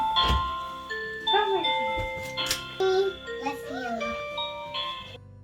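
A gentle electronic melody of soft chiming tones plays close by, with a voice briefly mixed in, then the tune stops abruptly at the end.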